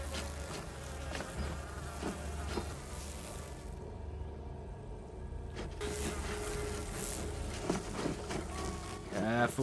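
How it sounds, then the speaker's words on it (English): A swarm of wasps buzzes steadily and densely in a film scene from The Hunger Games, a continuous close drone under faint voices, with a brief dip in the middle before the buzzing swells again. "Oh, look how many wasps!"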